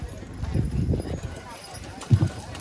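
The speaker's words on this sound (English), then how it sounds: "Please be quiet while the horses are pulling." Draft horses pulling a weighted sled at a horse pull contest, hooves thudding dully on the ground in irregular bursts, with a louder stamp near the end and crowd murmur in the background.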